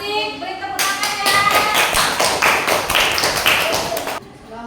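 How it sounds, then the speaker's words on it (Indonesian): A classroom audience breaks into applause, many hands clapping together in a dense burst of sharp claps that starts abruptly and stops after a few seconds, with a voice briefly heard before it begins. "Beri tepuk tangan ya."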